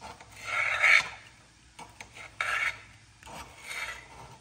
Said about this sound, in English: slice through the cornbread, cut it into small chunks